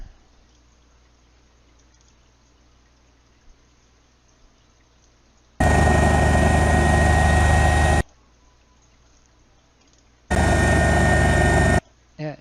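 Airbus H145 helicopter engine noise from inside the cabin in a flight sim, a loud steady whine and roar that cuts in for two long stretches and stops abruptly each time, with quiet hiss between.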